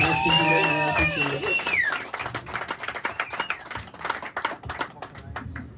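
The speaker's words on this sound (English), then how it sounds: "Everybody give them a big round of applause." A club audience gives a round of applause, dense overlapping claps with scattered whoops, following a burst of loud music, fairly close and steady to the end.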